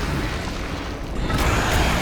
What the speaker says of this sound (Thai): เออระเบิดหมด